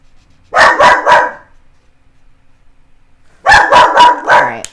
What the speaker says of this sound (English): She seems to just be walking around the house barking.